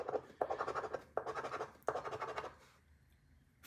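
Pack of lottery tickets scratched off by hand: three bursts of brisk, rhythmic scraping, each about a second long, close and fairly quiet, with a short pause between strokes and a quiet stretch at the end.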